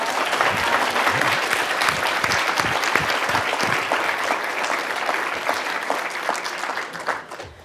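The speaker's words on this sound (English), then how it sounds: "Can we have another round of applause?" Audience applause at an evening event with journalist Jake Tapper, a sustained, dense wash of clapping from a large crowd that stays loud and steady before tapering off at the close.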